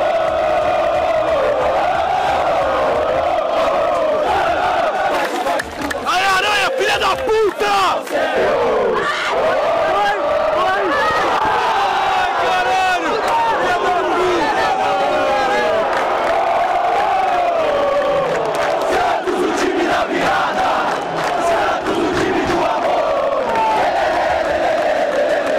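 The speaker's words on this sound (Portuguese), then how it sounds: "a torcida santista não parou de cantar" Santos football supporters chant and sing together in a packed stadium at Moisés Lucarelli as away fans, a loud continuous mass of voices with rhythmic shouts and cheers over the whole stretch.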